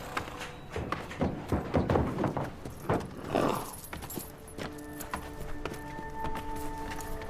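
Bay horses' hooves clip-clop in an uneven run of sharp taps that grows busier in the first few seconds, then fades into a quieter mix with some clinking in the later part.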